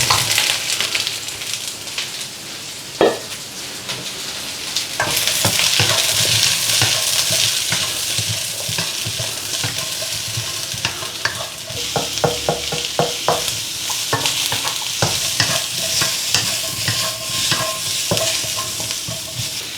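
Onions, garlic and mushrooms frying in oil in a pan for Chinese beef and mushrooms, a steady loud sizzle with repeated utensil clicks and scrapes as the ingredients go in and get stirred.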